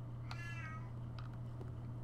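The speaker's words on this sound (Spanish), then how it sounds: "y el gato maullando" A cat in the PSX horror game Silent Hill gives a short, wavering meow, faint over a steady low electrical hum, with a couple of softer sounds trailing after.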